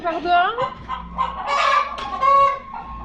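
Hens in a henhouse cluck and squawk in an agitated, overlapping chorus, fairly close, with a few higher calls rising above the steady murmur of the flock.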